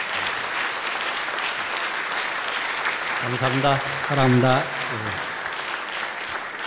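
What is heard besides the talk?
standing audience applause welcoming a pastor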